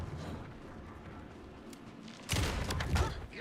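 Gunfire from Alan Wake 2: after a stretch of low rumbling ambience, a burst of loud, closely spaced shots breaks in and repeats a few times near the end.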